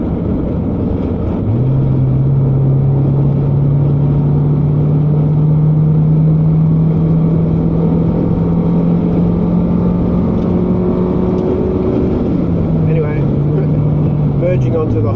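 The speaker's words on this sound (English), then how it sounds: "Merging onto the highway here, not very organized the way that they're driving" A car drives as it merges onto a highway, its engine droning steadily with a tone that rises and shifts as it gains speed, under continuous road noise and a speaking voice.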